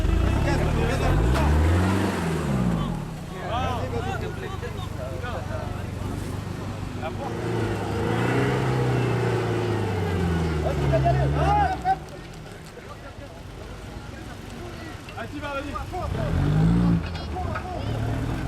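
A vehicle engine rises and falls in pitch as it revs and accelerates, loud and close, with people talking over it throughout.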